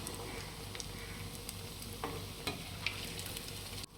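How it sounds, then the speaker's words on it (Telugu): Bread potato rolls fry in hot oil with a soft, continuous sizzle and occasional light clicks and stirring taps, close and fairly quiet, with no talking. "అన్నీ అలా ఫ్రై చేసేసుకుని పక్కన పెట్టేసుకోండి."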